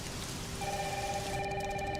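Heavy rain in a Gamescom video game trailer, a steady low wash of downpour heard with faint tonal ringing like a phone above it.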